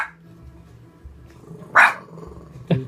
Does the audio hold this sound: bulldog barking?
yes